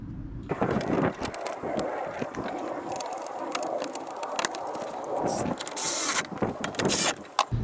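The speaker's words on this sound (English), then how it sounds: "Bolting the shroud up." Close mechanical clicks, ratcheting and metallic clatter of bolts being tightened on a radiator fan shroud, in irregular bursts with short pauses.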